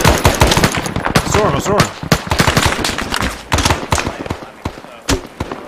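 Arma 3 combat fires rapid bursts of machine-gun and rifle shots at close range, loud and sharply repeated with short pauses, while a voice briefly speaks over the gunfire.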